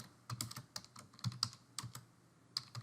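Quiet, irregular keystrokes clatter on a computer keyboard, with bursts of rapid taps and short pauses while HTML code is entered, and no voice over the typing.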